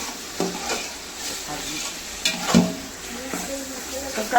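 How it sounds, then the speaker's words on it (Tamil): Tomatoes sauté in a pan for biryani, a close, moderate sizzle marked by stirring scrapes and occasional louder clatters from the utensil. "போட்டு தக்காளி நல்லா வதங்கட்டும்"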